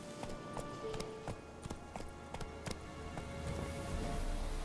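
Horse hooves pound in a quick galloping clip-clop within The Witcher 3 video game, a steady rhythm of close, moderately loud beats over a faint background wash.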